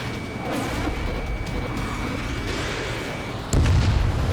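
Missile launch and blast in the Ace Combat 7 flight combat game, a steady loud roar of jet and rocket noise that jumps into a heavier burst near the end.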